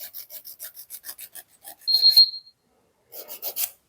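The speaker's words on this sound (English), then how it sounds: "I'm always filing the free edge after my top coat" A nail file rasps against the free edge of fresh gel nails in quick, even close-up strokes, pausing once for a short, brighter scrape before the rhythmic filing resumes.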